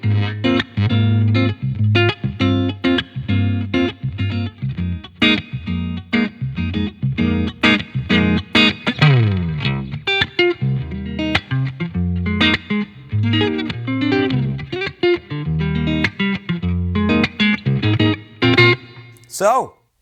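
An electric guitar played through a Boss GT-1000 effects processor rings out loud and up close with distorted chords and single-note phrases, ending in a short pitch sweep.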